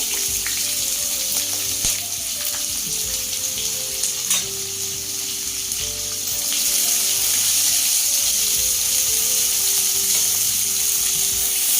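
Onions and green chillies fry in a pan with a loud, continuous hissing sizzle, occasional faint clicks of a spoon, and the frying growing a little brighter and fuller partway through.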